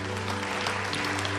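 Applause for a graduate named Valérie at a church gathering, a dense steady crowd clapping that fills the whole moment without a break, over a sustained low hum in the room.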